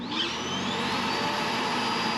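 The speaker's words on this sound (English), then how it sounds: "Let's try the vacuum cleaner." A vacuum cleaner runs steadily, powered by a Honda EU32i portable generator, with a continuous loud whine and motor roar holding an even level throughout.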